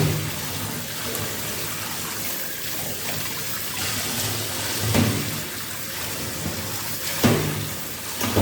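Korean perilla leaves are rinsed in a basin of water, giving a soft continuous splashing and trickling with a few louder sloshes, close by and with no talk.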